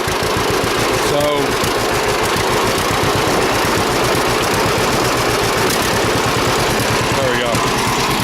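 A rebuilt John Deere B tractor engine idles steadily with a loud, rhythmic low putt-putt throughout, close by, while someone speaks briefly over it.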